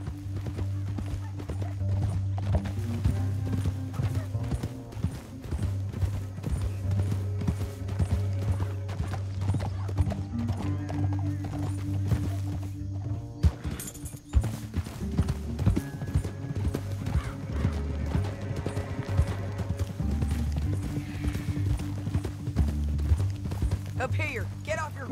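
Horses gallop in Red Dead Redemption II, a continuous rhythmic clip-clop of hooves close by under background game music, with voices speaking over it.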